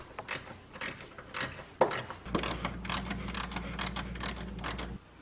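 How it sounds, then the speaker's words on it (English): A ratchet clicks rapidly while loosening two 10 mm bolts on the fuel filter bracket of a Nissan Skyline GTR R32. The ticking is close and busy, with a steady low hum joining partway through. "two 10 mil bolts, remove that"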